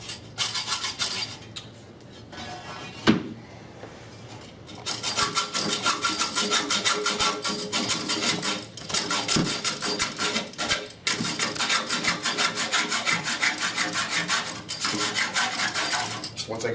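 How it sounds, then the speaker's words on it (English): Hacksaw with a dull, rusty blade cutting through metal pipe in a workshop, a steady rasping scrape of repeated strokes, loud and close, with a brief pause and a sharp knock near the start. "Really should have changed the hacksaw blade."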